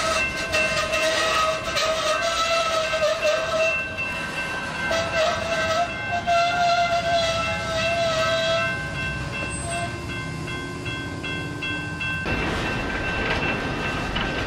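A BNSF freight train backs up slowly during a switching move in Shelby, Montana, with a steady rumble of rolling cars, squealing wheel tones and a sudden loud clank near the end.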